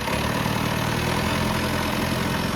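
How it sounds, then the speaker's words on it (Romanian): An old diesel boat engine, some 20–30 years old, runs steadily and loudly close by, a continuous low rumbling drone with no breaks and no voices. "Închipuieți să ai un motor diesel vechi de vreo 20-30 de ani."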